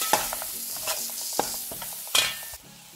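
A mushroom tikka masala curry with cashew nuts is stirred in a frying pan, a spoon scraping in repeated strokes over a steady low sizzle, close and alone with no talk.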